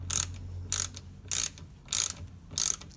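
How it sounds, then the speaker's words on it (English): A car battery hold-down clamp being tightened with a ratchet, giving five loud, evenly spaced bursts of clicking, each about a third of a second long, close up with no talk. "Hold down the clamp"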